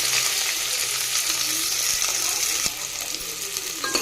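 Chopped onion and green chili frying in a pan for vegetable pulao, a steady dense sizzle throughout with a few faint stirring scrapes and no talking.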